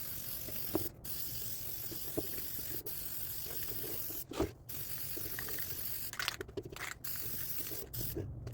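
A spray can gives a steady, hissing spray almost the whole time while coating a handmade shield, with a few sharp clicks and brief pauses breaking it up.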